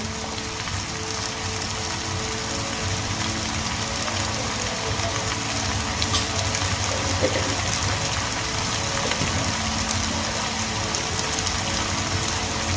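Water goes into a pan of potatoes coated in cumin and coriander powder, cooking for a Bengali-style fish curry, giving a steady, close wash of liquid and sizzle that runs without pause and without voices.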